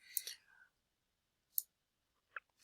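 A computer mouse clicks a few times, faint and sparse, during work in Microsoft Office mail merge label settings; a brief soft voice is heard at the start.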